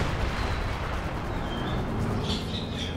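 Artillery shells landing in the World War II strategy game Company of Heroes 2, a dense rumbling barrage of heavy impacts with thin chirping highs on top, loud and continuous, with no voices.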